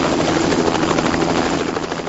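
A news helicopter flies overhead, its loud, steady rotor thrum and engine roar continuous and close throughout.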